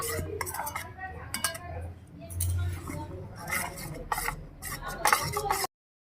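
A spoon stirs egg chilli batter in a bowl for hotel-style egg chilli, giving steady clinking and scraping strokes at close range, with a few sharper metal taps and faint background hum.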